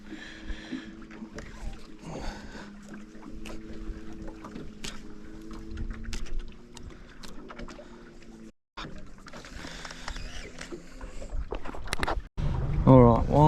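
A boat motors back upstream against the current, its steady engine drone with wind and water noise running throughout, loud and close, with a brief dropout near the end.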